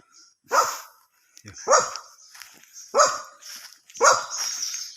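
A dog barks four times at an even pace, loud and close, each bark followed by a brief pause.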